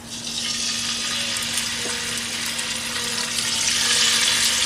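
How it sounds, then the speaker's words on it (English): Chops laid into hot oil in a pan, a dense, steady sizzle and spatter that swells slightly as they brown, close and loud, with no voices. "I'll lay my chops in there."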